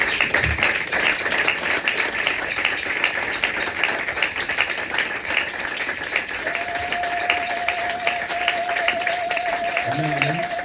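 A Sunday church congregation claps to acclaim the word of God: continuous, rhythmic clapping fills the space, with a steady held tone and a brief voice near the end.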